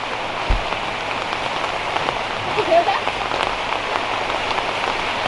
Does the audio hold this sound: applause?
no